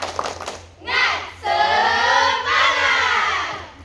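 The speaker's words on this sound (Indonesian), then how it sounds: "Yang kedua, tepuk semangat" A group of high school students in a physical education class shouts a spirit chant in unison, with loud bursts of voices and clapping following a short call from a teacher.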